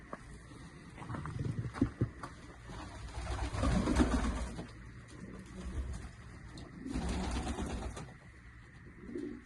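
Soft, low cooing of tumbler pigeons repeating through the clip, fairly near, with some shuffling and rustling in the background.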